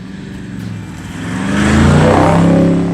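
A Toyota 76 Series LandCruiser engine rumbles low, then revs up through a twin 3-inch exhaust and holds a loud, deep throaty drone with a rising exhaust growl near the end.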